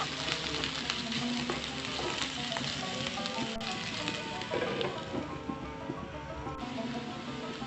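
Onion with green sweet pepper and half a hot pepper frying in a pan, a steady broadband sizzle with scattered crackles running throughout at moderate level, no talk.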